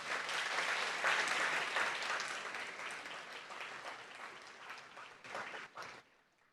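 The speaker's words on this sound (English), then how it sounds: "Let's give them all a big round of applause." Applause from an audience at an education awards ceremony fills the room, sustained and fairly distant, then thins out into scattered claps before stopping.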